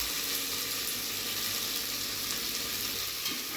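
Chopped onions and finely chopped fenugreek leaves fry together in a pan while being stirred, giving a continuous close sizzle with soft scraping and shuffling, and no talking.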